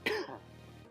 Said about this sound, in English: just getting over a cold, so excuse the coughing